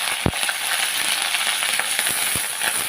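Small onions and curry leaves frying in hot oil for a tempering for radish sambar, a steady close sizzle and crackle with a few sharp pops throughout.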